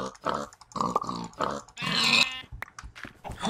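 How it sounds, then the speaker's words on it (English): Pigs in the video game Minecraft grunt and snort several times in short bursts, near and fairly loud, with a longer squeal-like call in the middle and no talking. "Look at those pigs."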